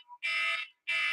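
Alarm going off indoors, loud electronic beeps in a repeating pattern: two long, harsh, buzzing tones separated by a short silence, close and alone.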